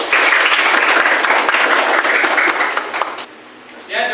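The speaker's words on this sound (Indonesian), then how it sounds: "Ya, terima kasih tepuk tangan." Audience applause from a classroom or lecture crowd, dense steady clapping that holds loud for about three seconds before thinning out and fading.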